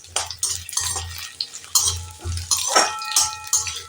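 Sweet potato and radish stirred together in a pan over a high gas flame, a string of close, uneven scraping and clattering strokes from a utensil against the pan, with soft sizzling between them.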